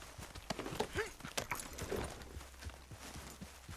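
Horse hooves clip-clop at a steady walking rhythm in Red Dead Redemption 2, close and fairly quiet, with soft tack jingles and faint background ambience throughout.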